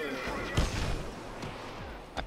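Grenade blasts in Payday 2 during a tunnel firefight, several sharp booms and thuds spaced across a couple of seconds amid background gunfire, with players talking over the action.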